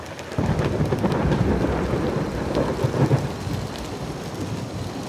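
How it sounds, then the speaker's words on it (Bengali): Steady heavy rain with a close lightning strike and deep, rolling thunder rumbling through it, swelling to a louder peak partway then continuing under the downpour. "কড়কড় শব্দ করে বাজ পড়ল অদূরেই কোথাও।"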